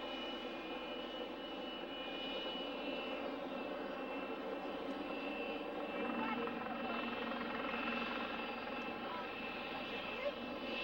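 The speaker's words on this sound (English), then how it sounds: "We're starting the engine" An aircraft engine runs with a steady, droning hum at moderate loudness, holding an even tone throughout with a slight swell midway and no break.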